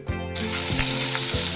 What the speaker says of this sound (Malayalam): ഇനി നമുക്ക് അതിലേക്ക് മുറിച്ച് വെച്ചിട്ടുള്ള കായ് ചേർത്ത് കൊടുക്കാം കേട്ടോ.